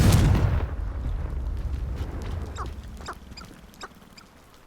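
A Confringo fire spell cast in the video game Hogwarts Legacy, heard as a loud close explosive burst that fades into a rumbling tail, with a few sharp crackling pops following.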